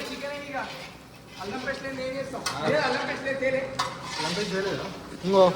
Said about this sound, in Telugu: సంతూ ఒకటే కలుపుతుండు.